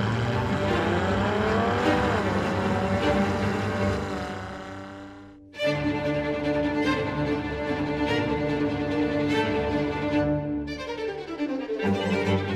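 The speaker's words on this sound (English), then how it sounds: "we're on the winding roads outside of Maranello in the ultimate Italian car" A Ferrari sports car drives the winding roads outside Maranello, Italy. Its engine sounds loud and close as it climbs steadily through the revs, with two sharp gear shifts before each new pull, and no voices.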